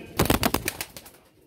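A male green-breasted breeder pigeon being released gives a short cluster of close, soft coo-like calls with a few rustles, crowding into the first second and then fading to near silence.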